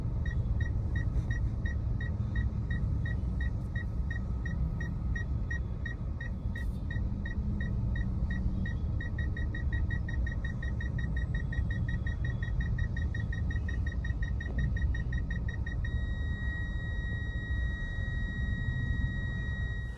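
Rapid, regular electronic beeping from a Kia Sonet 1.0 turbo petrol DCT's parking sensor over a steady low engine rumble, quickening near the end into a continuous tone.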